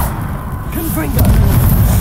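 A Confringo blasting curse in Hogwarts Legacy: a voice shouts the spell, then a loud, low, rumbling blast follows and carries on to the end.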